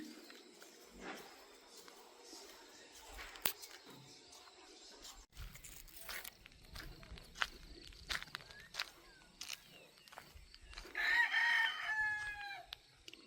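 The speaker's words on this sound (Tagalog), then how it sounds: "Sarap makarinig ng ano, tilaok ng manok." A rooster crows once near the end, fairly close, over a quiet outdoor background with scattered footsteps and light clucking.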